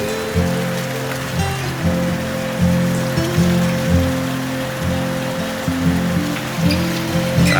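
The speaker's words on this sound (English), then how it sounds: "Absolutely pissing down here at the corner" Heavy rain pours down in the Australian outback north of Broken Hill, a dense, loud and steady hiss of drops drumming on a surface, with low rumbling pulses beneath and no voices.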